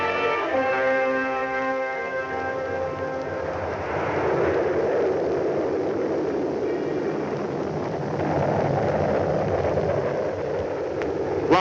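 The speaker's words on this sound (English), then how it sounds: "This is a captive firing of the first stage of the three-stage Apollo Saturn V space" First stage of a three-stage Apollo Saturn V rocket in a captive test firing, a sustained distant roar with deep rumble and crackle, continuous for the whole stretch with slowly swelling intensity.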